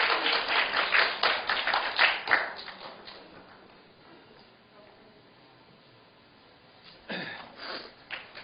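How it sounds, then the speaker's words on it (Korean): A small group at a parents' education session claps in a brief burst that fades after a few seconds, followed by quiet and a short second flurry of clapping. "박수 쳐주세요"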